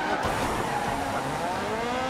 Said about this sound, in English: Oh, what a horrible crash.